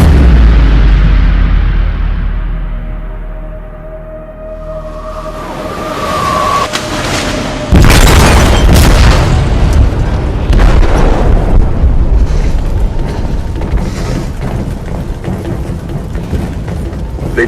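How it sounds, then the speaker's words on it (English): A powerful explosive blast goes off in a ship's hold in Detroit: Become Human, erupting into a deep booming roar that is followed by sustained rumbling and crashing debris at close range. "They detonated an explosive in the hold."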